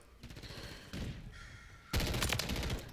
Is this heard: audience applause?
no